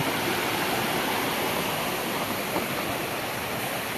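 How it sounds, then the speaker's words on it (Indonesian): A river stream flows beside a highland campsite near a waterfall, giving a dense, steady rush of water that stays loud and unchanging throughout with no voices. "Sungainya."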